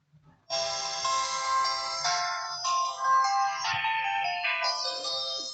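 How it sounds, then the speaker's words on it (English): Power-on tune from an Itel it2163 feature phone that has a blank screen fault, a loud electronic ringtone-like melody of shifting tones starting abruptly after a brief click and playing steadily alone. "You can hear the sound. The phone, it is on, but we have nothing on the screen."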